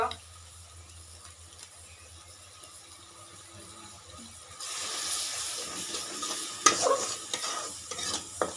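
Chili paste and turmeric hit hot oil for a village fish curry on a wood-fired stove in Odisha. After a quiet stretch, a loud sizzle bursts in and keeps going with stirring scrapes until the end.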